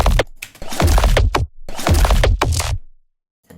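Layered bass sounds combine a sub bass with another bass layer, playing dense, loud bursts in two long phrases that break off into silence near the end.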